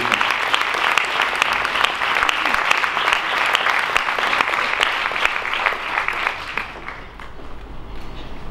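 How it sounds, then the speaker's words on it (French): Steady applause from an audience at an official address at the renovated Institut français in Abidjan, dense continuous clapping throughout that thins slightly toward the end. "Tant qu'un artiste n'est pas venu sur la scène, on continue à applaudir."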